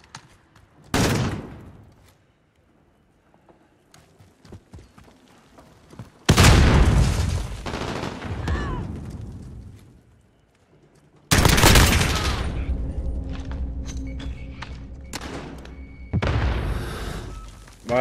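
Three loud, booming M4 gunshot bursts in Call of Duty: Modern Warfare ring out several seconds apart, each with a long echoing tail, separated by quieter gaps.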